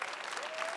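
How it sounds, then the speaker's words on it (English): A brief burst of dense audience applause, steady and fairly distant, with many hands clapping at once. "Let's give them all a round of applause"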